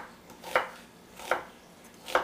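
Knife chopping an onion into julienne strips on a board, three distinct crisp cuts spaced evenly about three-quarters of a second apart, fairly quiet and close.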